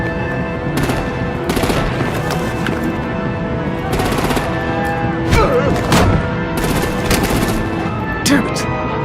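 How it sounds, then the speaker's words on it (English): Gunfire and artillery in a Telltale Batman video game battle: continuous rapid machine-gun bursts and heavy shots, loud and close, mixed with booms and clattering impacts across the whole stretch. "Break out the artillery and disable their vehicles!"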